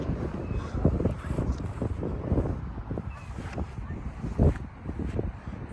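Gusty wind in Vancouver buffets the microphone in uneven rumbling bursts, rising and falling throughout.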